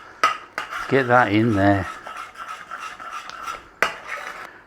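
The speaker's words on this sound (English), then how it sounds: "Stir it in so it's all silky smooth." Spoon stirring banana rum jam in a pan, with light scraping and clinking against cookware; a voice speaks briefly over the stirring.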